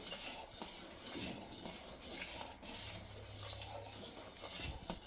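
A spoon works through a thick besan (gram flour) mixture in a vessel, giving a steady run of soft scraping and stirring scrapes with occasional light clinks against the metal, close and fairly quiet, with no talking.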